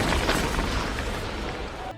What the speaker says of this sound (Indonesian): Hingga sebuah ledakan lain menjatuhkan mereka berdua.